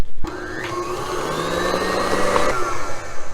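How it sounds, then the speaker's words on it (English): An electric stand mixer whirs loudly and steadily while beating Swiss meringue buttercream, its motor tone rising slightly in pitch before it cuts off near the end. "we're going to go for our last little mix here"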